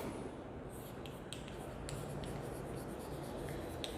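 Pen or pencil writing on a math worksheet, a faint, steady scratching and rubbing under a quiet background hiss, with a few light taps, close and continuous, no talking.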